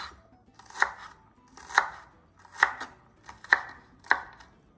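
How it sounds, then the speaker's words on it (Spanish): Onion chopped into small pieces on a board with a knife, five crisp evenly spaced chops close up, each with a short ring-out, no voices. "vamos a picar nuestra cebolla en pedacitos bien pequeños"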